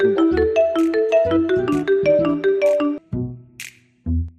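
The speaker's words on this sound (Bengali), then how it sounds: "অসময় ফোন দিল" A mobile phone ringtone plays a repeating melodic chime in quick note patterns for about three seconds, loud and close, then cuts off, followed by brief rustling and a short voice.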